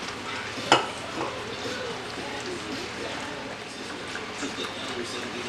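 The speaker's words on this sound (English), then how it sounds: "So just keep on whisking it for about a minute." Grits being whisked in a pot on the stove, a soft steady scraping and swishing with a faint sizzle beneath, one sharp clink near the start and low background noise throughout.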